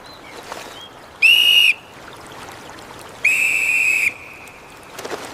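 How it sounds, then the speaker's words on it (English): Two loud, sustained shrill whistle blasts, each about half a second to nearly a second long, separated by a pause, over faint background noise. "The safety whistle."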